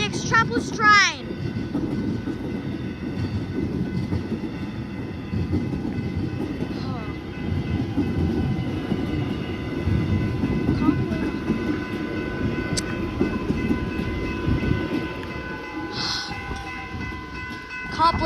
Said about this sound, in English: It's my enemy, the Extrapolis train.